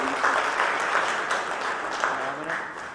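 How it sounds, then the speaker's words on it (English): Applause from the audience at an India ports summit inaugural session welcoming a dignitary, a steady, moderately loud round of clapping that holds for several seconds with faint voices underneath. "Warm welcome and a round of applause for sir, please."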